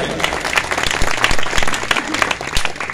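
An audience at a church sermon gives loud, dense, sustained applause, with many hands clapping together close by in a continuous burst.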